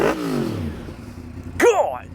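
A Yamaha MT-10 motorcycle fitted with a new SC Project exhaust, heard as a falling engine note at the start, then a quiet idle before a sharp, close rev rises near the end.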